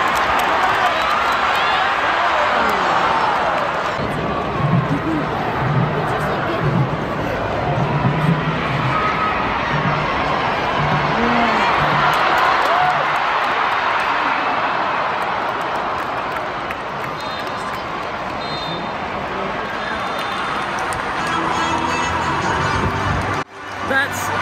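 Stadium crowd at the FIFA Women's World Cup 2023 match between Australia's Matildas and Sweden, applauding as Sam Kerr leaves on a stretcher: a loud, sustained roar of clapping and cheering that dips slightly near the end.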